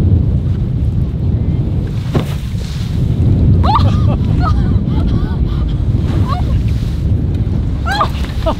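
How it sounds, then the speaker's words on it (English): Big ocean waves crashing around a sailing boat, loud constant rushing water and wind buffeting the microphone, with voices calling out over the noise. "There's some pretty big waves coming out this way."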